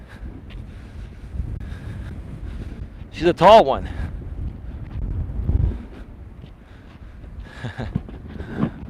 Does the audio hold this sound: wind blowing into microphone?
yes